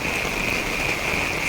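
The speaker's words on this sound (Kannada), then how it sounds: "ಮಳೆ ಬರ್ತಾ ಇದೆ" Rain falling outdoors at night, a steady even hiss with a continuous high insect-like trill running through it, fairly quiet and unbroken.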